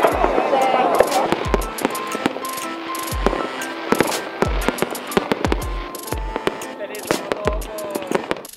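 New Year fireworks explode in a rapid, irregular string of sharp bangs and crackles, loud and close, with people talking and a constant crowd murmur underneath.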